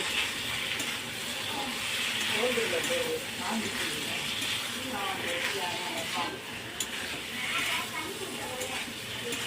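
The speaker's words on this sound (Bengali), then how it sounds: "সেদ্ধ করা আলুটা দিয়ে দেবো আলুটা দিয়ে আমি একটু ভালো করে কষে নেব" Boiled potatoes are sautéed in a pan for Kashmiri aloo dum, giving a soft continuous sizzle and occasional stirring scrapes while someone talks over it.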